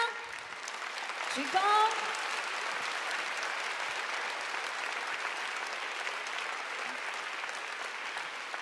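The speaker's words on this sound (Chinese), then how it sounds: "再次给谢谢所有的表演者一个热烈的掌声" Audience applause at the Rising Winds 2022 Presidential Office Concert, a steady, dense clapping that fills the hall throughout, with a brief voice speaking over it near the start.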